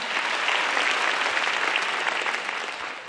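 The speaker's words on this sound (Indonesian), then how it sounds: "Beri tepuk tangan sekali lagi untuk Bang Densu." Studio audience applause at the grand final of a stand-up comedy competition, a dense, steady wash of many hands clapping at full strength throughout, with no talk over it.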